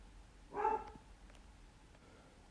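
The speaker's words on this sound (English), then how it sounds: "that is my dog barking in the background" A single distant dog bark, faint and brief, against a quiet background.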